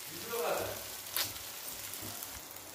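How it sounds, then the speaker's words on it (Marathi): A gravy paste sizzles and fries in a pan for a Maharashtrian ridge gourd dish, a soft continuous crackle at close range with a brief stir partway through and faint talk underneath. "ग्रेव्ही थोडीशी भाजून घेऊया मस्तपैकी।"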